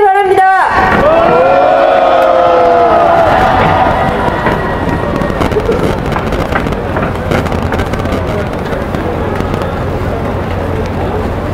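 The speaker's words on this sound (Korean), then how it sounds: "큰 박수와 함성으로 이창무 의장님을 맞이해 주시기 바랍니다" A large outdoor crowd on a cold day cheers and applauds to welcome a speaker at a memorial concert, a dense steady roar with wind buffeting the microphone and a brief announcer's voice at the start.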